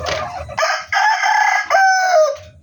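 A desi hill-breed rooster crows close by, one long drawn-out cock-a-doodle-doo rising in several strained sections and fading out, with faint background noise before and after.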